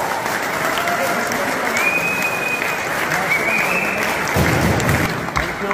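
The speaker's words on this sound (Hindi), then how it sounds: "जोरदार तालियां" Loud, sustained applause from an event audience, dense clapping from many people filling the room steadily, with a faint tonal whistle over it midway.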